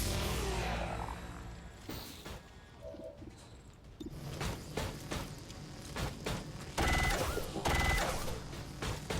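Gunfire in the XCOM 2 video game during a fight with a Sectopod mech: irregular sharp bursts and crashes over a dense, churning din, loud and close, with heavier volleys near the end.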